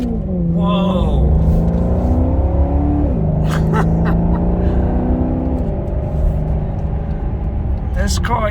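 Maserati Quattroporte Sport GTS engine in sport mode, loud and close, revving up through rising pitch sweeps with gear changes around three and six seconds, someone talking over it throughout.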